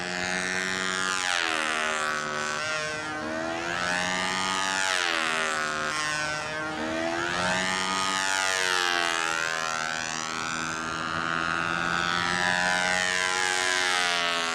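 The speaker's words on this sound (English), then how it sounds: "I'm just in love with the sound of this motor" Motor of a Rojett 90 RC jet aircraft runs steadily and loudly throughout, a continuous whining roar whose pitch sweeps up and down in repeated slow waves as the throttle changes.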